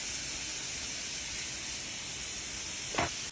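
Food sizzles in a pan with garlic butter, a steady close hiss of sautéing that holds level throughout, with a brief scrape or clatter near the end.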